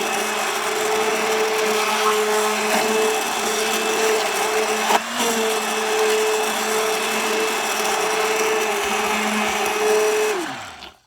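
A blender whirs steadily as it mixes homemade face cream with essential oils and preservative, a loud continuous drone lasting several seconds with a brief dip midway before winding down to stop.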